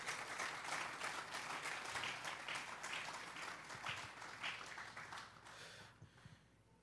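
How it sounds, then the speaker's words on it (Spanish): A church congregation applauds at a sermon on faith, a dense burst of many hands clapping that carries on loudly for several seconds and then thins and fades out toward the end, with no talking over it. "Vamos a darle un fuerte aplauso al Señor esta tarde."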